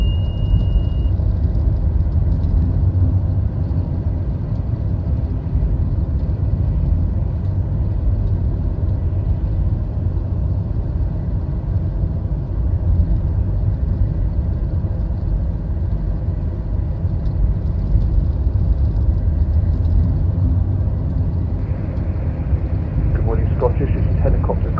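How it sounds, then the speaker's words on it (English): Airplane engine during its takeoff roll on runway 24, a continuous low rumbling drone that stays even throughout, with voices talking over it. "Runway 24, clear for takeoff"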